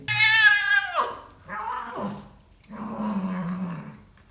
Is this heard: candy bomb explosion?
no